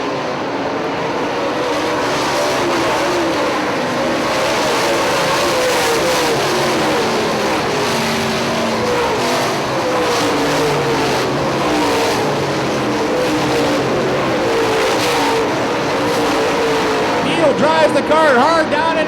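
UMP late model race cars roar around Hartford Speedway during a summer nationals race, engines droning steadily and loudly throughout with revving surges, while an announcer talks over the field.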